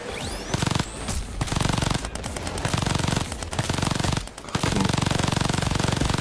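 Sustained automatic gunfire in the video game Payday 2, dense rapid bursts hammering almost without pause for several seconds with a couple of brief breaks, loud and close, no speech.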